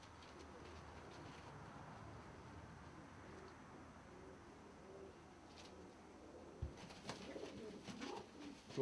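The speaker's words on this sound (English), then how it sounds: "Here's a little red fairy swallow." Fairy swallow pigeons in a loft coo softly and steadily under a low, faint background hum, with a few louder scuffs and flutters near the end.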